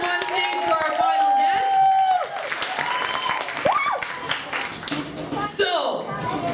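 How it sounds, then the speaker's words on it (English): Audience applause for students at a school drama night, a steady wash of clapping running under loud overlapping voices and squeals throughout, with scattered sharp claps standing out. "Let's clap for them one more time"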